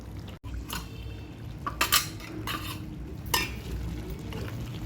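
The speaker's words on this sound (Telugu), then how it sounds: "అల్లం పేస్ట్ పచ్చివాసన పోయేంత వరకు వేయించుకుంటే సరిపోతుంది." Ginger paste fries in a pan while a spoon scrapes and stirs, giving a few sharp metallic clinks over a low steady sizzle, close and with no voices.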